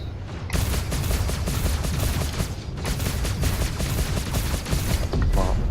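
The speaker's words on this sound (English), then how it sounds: "I might as well use my guns for that then" Rapid bursts of ship-mounted guns fire in the Star Citizen Arena Commander space combat game against nimble pirates, loud dense volleys in several long runs with a brief pause near the middle.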